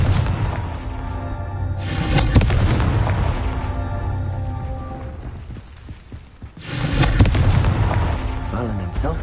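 The Confringo blasting spell in Hogwarts Legacy sets off booming explosions with heavy low rumbles. Two big blasts ring out, each with a crackling tail, and a voice speaks over the game audio.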